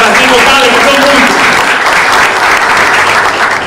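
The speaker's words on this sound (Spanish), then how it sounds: "Un aplauso especial y colectivo a todos los que terciaron en las primarias" A crowd applauds at a Dominican political party event honoring primary candidates, loud dense clapping sustained the whole time, with a voice speaking over the start.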